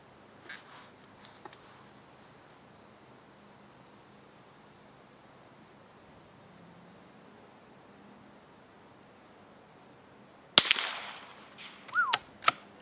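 Quiet subsonic rounds from a CZ 452 Ultra Lux rifle on a range at about 25 yards: after a long near-silent stretch come a few sharp, dry cracks, with a faint snap or two before them.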